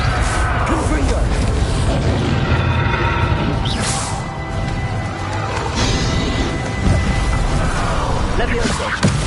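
A Confringo blasting spell explodes in Hogwarts Legacy, its crashing bursts buried in a dense, loud wash of continuous game sound, with voices speaking throughout.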